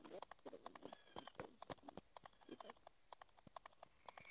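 Horse hooves clip-clop in a western shooting video game, a quick, uneven series of sharp knocks at a trotting pace, close and clear, with soft voices underneath.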